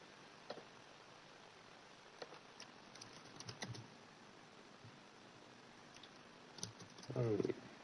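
Typing on a computer keyboard, a faint scattering of light key clicks at uneven intervals against a quiet background hiss, with a quicker cluster of taps near the end.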